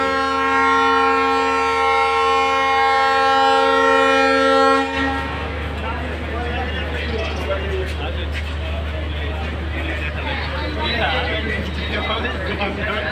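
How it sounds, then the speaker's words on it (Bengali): Padma Express train at Rajshahi railway station, opening with a long, loud multi-tone horn blast lasting about five seconds, then a steady heavy rumble of rolling wagons close by. "এরপরে আসবে পদ্মা এক্সপ্রেস।"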